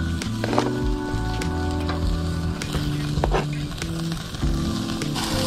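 Seasoned lamb loin chops laid onto a hot charcoal grill sizzle loudly and continuously up close, with tongs clinking and scraping against the grate as each piece goes down.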